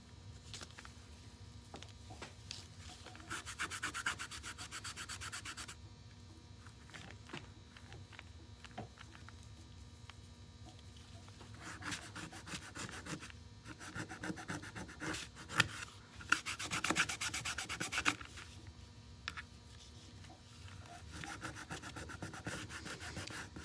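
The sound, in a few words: rubbing back dark stain on wood by hand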